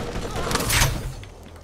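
In the Borderlands video game, a grenade bursts amid a spray of gunfire, a dense run of cracking shots with a louder blast near the middle, fairly faint and with some speech mixed in.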